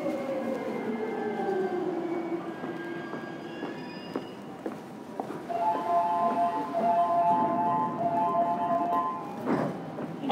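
A Yamanote Line train pulls into Gotanda station during evening rush, with rumbling carriages, faint wheel squeal and sustained tonal hums rising near the end, steady and fairly close.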